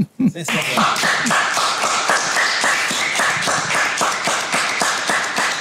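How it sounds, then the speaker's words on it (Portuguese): Steady, brisk clapping from a few people, near and continuous, with a short thump at the very start. "Eu acho que merece palmas."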